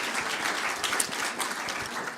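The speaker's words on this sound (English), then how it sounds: "so a round of applause" Audience applause at a policy conference: a dense, even wash of many hands clapping, steady and moderately loud for the whole stretch, no voices over it.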